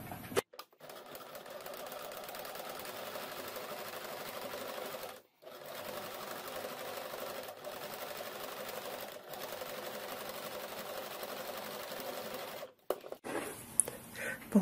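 A sewing machine stitches a seam 1–2 mm from the fabric edge, its steady close whir running in long stretches broken by short stops for repositioning.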